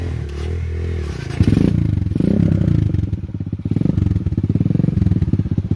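A dirt motorcycle on a mountain trail revs hard and close, its engine roaring loud and rising in repeated bursts with clattering and scraping from the bike.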